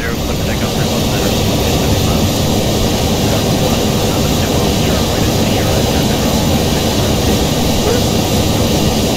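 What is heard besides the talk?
airliner jet engines during takeoff, from a flight simulator game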